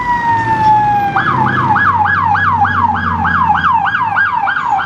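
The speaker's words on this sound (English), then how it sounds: "let the siren pass" A loud emergency siren wails in a fast repeating yelp pattern, close by, with engine rumble underneath.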